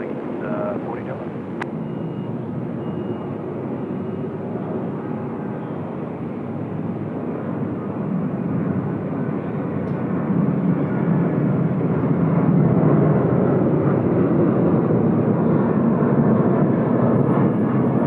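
An airliner taking off from a Sydney Airport runway, a broad, continuous roar of jet engines that swells steadily louder toward the end, heard from a distance across the airfield, with no talking.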